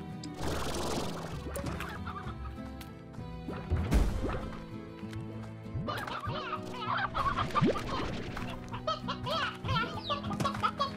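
Chickens cluck in the video game Slime Rancher amid busy game music and sound effects, with a sharp crash-like hit near the middle.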